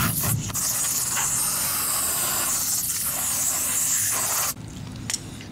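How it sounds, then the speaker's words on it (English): Running water sprays steadily to rinse soil off the roots of seedlings being moved into a hydroponic setup, a loud, close hiss that drops off near the end, with no talking. "We're gonna rinse the excess off here."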